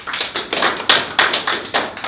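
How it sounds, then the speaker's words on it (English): A small seminar audience gives a short round of applause, steady close clapping with distinct individual claps in an uneven rhythm. "we might just need a little round of applause or something"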